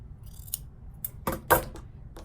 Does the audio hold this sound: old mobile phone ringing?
no